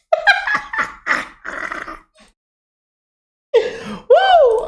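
A dog growls and whimpers close by in a few short, strained bursts. A quiet pause follows, then a rising, whining yelp.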